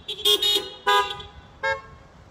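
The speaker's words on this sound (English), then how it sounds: "All of the congregational responses happen with a horn honk." Three short car horn honks, loud and close, the second a bit longer, with brief pauses between them, given as congregational responses at an outdoor Easter Vigil service.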